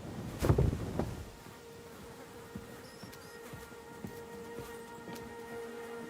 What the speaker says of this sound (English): Those are my bees.